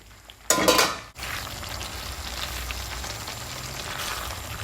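Pasta tipped into a pan of tuna and sweetcorn sauce lands with a short loud clatter and scrape, followed by a steady low sizzle and faint stirring.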